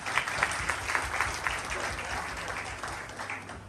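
A church congregation at a Palm Sunday service claps loudly together in a near-rhythmic burst of applause, steady and close for a few seconds without speech.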